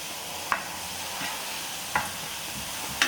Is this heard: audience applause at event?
no